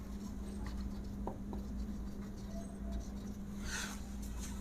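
A pen writing on paper, giving soft, faint scratching strokes under a low steady hum, with a brief sharper scrape near the end.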